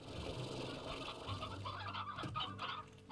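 Chickens cluck steadily in the Slime Rancher video game, a continuous busy layer of fowl calls running throughout at close range with no talk over them.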